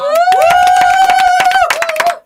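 A studio audience at a talk show cheers with a sustained loud whoop over rapid, dense clapping that lasts about two seconds.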